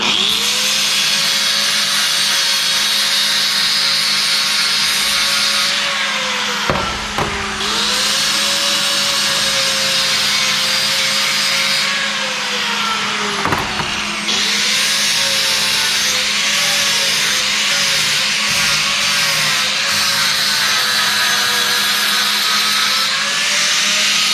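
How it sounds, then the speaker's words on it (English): A power grinder working down a motorcycle seat, running loud and continuous with a steady whine that dips twice under load before recovering, close up. "Do a quick little grind."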